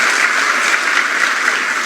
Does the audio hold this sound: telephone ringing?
no